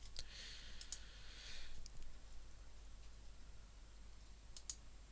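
Computer mouse clicks while working in Windows Movie Maker, a few sharp, close clicks scattered over a quiet background hum, with a soft rustle in the middle.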